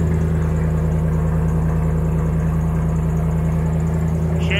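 A Mazda RX2 fitted with an L83 V8 idles steadily during its heat cycle, a loud, close, even low rumble with a constant rapid pulse and no change in pitch throughout.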